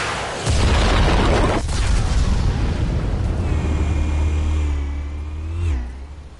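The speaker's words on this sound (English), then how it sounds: "Explosives armed. Fire when ready." Explosives detonate in Batman: The Telltale Series: a loud, deep blast breaks out suddenly, then a heavy rolling rumble sustains for several seconds before swelling briefly and cutting off, with a faint rising whine near the end.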